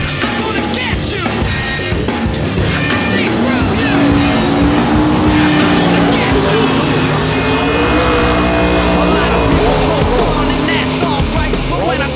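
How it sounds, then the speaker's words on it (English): A Volvo drag car fitted with a 600 hp LSA V8 roars at a drag racing track, its engine loud and continuous, with a sound like a passing vehicle mixed in and some background chatter from people. "here's another car, a Volvo, with the same engine as the race car"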